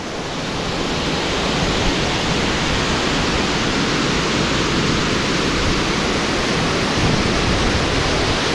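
Dense, steady roar of the Lúčanský waterfall in Slovakia right at its base, loud and close with wind mixed in, holding constant without pauses or voices.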